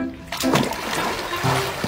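Water splashes and sloshes in a swimming pool as people bathe, a few quick close splashes with a trickling wash between them.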